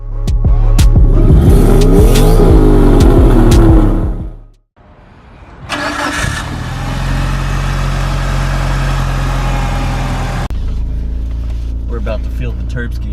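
A Mitsubishi Evo's turbocharged engine warms up, revving loudly and close by at first, then cutting out briefly before settling into a steady, rumbling idle.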